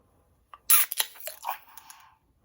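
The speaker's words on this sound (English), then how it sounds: "let's crack this open and get a pour on it" A short metallic snap and hiss as a can of Guinness Nitro Cold Brew Coffee is cracked open, followed by a brief fizzing rustle, close and fairly quiet.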